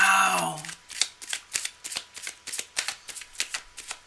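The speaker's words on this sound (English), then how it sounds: "Let's keep shuffling." Playing cards shuffled during a live tarot reading, a rapid series of about a dozen crisp riffling bursts in steady rhythm, close and fairly loud, following a brief bit of talk at the start.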